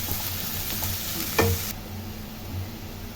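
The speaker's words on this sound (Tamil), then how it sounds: "எண்ணெயிலே நல்லா ஃப்ரை பண்ணணும்." Chopped vegetables sautéing in oil for chicken fried rice give a steady sizzle, with a brief louder scrape or clatter around the middle; the frying continues evenly throughout.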